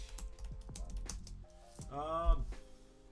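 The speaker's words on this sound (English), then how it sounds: "The clicky-clacky of that keyboard is insane." Rapid clicky keyboard typing, close and uneven in rhythm, with a brief tonal chime partway through.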